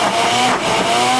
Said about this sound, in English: let me put my lid on and blend this up